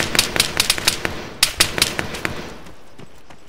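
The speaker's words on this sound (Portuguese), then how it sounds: "Muito tiro, galera. Muito tiro." Rapid bursts of gunfire in the video game Arma 3 crack in quick irregular volleys, loud and close, tapering off toward the end.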